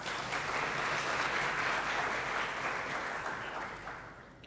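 Audience applause for a party leader at a youth parliament session in Mizoram, a steady, dense clapping from a crowd that holds for about four seconds and then starts to fade.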